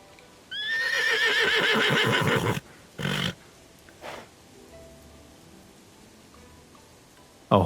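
A horse in the video game Love and Deepspace neighs loudly with a long, wavering whinny, followed by a few short snorts and brief noises, then quiet.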